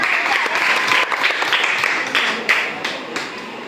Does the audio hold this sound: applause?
yes